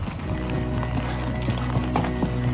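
Horse hooves clip-clop steadily at a riding pace over a constant low outdoor rumble, with a faint whinny-like call and no talking.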